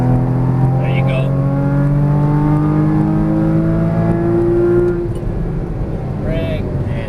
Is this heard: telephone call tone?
no